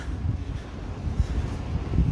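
Gusty wind on a cold, damp morning in Glasgow buffets the microphone with a low, rumbling roar that rises and falls, steady and close, with no voices.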